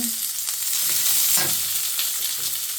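Onions browning in a pan for a homemade chicken breast and vegetable stir-fry, a loud continuous sizzle with stirring scrapes throughout, no voices.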